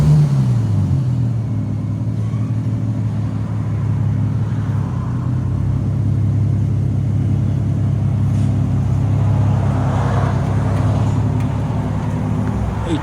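A 2012 Infiniti G37 with a 3.7L V6, HK5 mufflers and resonator deletes, rumbling close up with a deep, steady exhaust drone and a rise in revs near the start.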